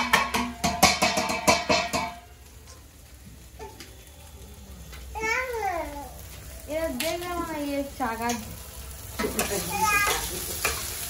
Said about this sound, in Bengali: তো এবার লাল লাল করে আমি সয়াবিনটা ভেজে নেবো